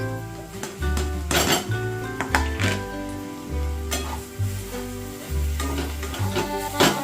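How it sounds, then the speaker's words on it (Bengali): Eggplant pieces sizzle in a spiced mixture as they are stirred, with steady frying hiss, scraping strokes and pot clatter repeating through the stretch; background music plays underneath. "এবার আমি বেগুনগুলোকে দিয়ে দিচ্ছি"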